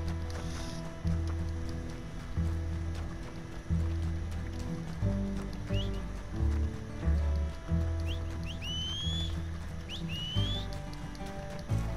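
Horse hooves clip-clop at a steady walking pace in Red Dead Redemption 2, mid-distance and moderately loud over low ambient game music, with bird calls chirping in the background.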